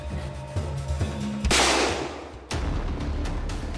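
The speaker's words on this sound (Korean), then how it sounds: "총소리가 난 직후 쓰러진 사람들." A single loud gunshot from a prop pistol during a film rehearsal on a New Mexico ranch set cracks out sharply and rings off in a noisy tail, followed by a dull thump, over low background music.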